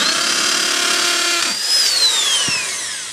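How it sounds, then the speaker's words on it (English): A power drill whirs loudly and continuously, its high whine shifting pitch as it bites into concrete block during stone veneer installation, then slowly winding down. "because this is block, I just drill a hole"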